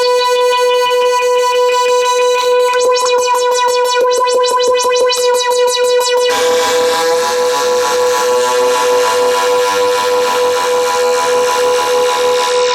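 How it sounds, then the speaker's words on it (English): Minimoog synthesizer making spaceship noises through modulation: a sustained bright tone pulsing in fast rhythmic ticks, then shifting into a dense, swirling, wobbling drone, loud and continuous with no voices. "And spaceship noises."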